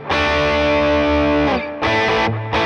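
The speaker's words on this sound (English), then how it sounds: "here it is with some distortion." An electric guitar through heavy distortion rings out a long sustained chord, then two shorter, punchy chord stabs, loud and close with no talking.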